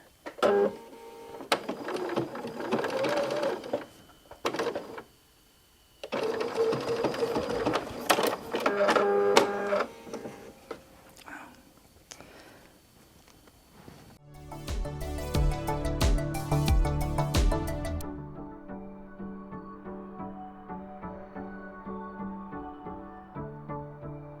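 A sewing machine stitches along the edge of a small pocket quilt to reinforce it, first in irregular stop-start bursts, then in a longer, steadier mechanical run up close.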